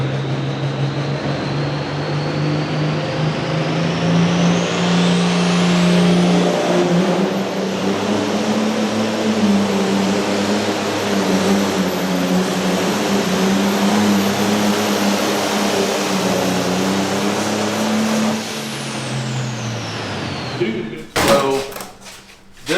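An International truck engine from a tractor-pulling team idles steadily and loud with a deep droning rumble for about twenty seconds, then quiets before some brief knocks and clatter at the end.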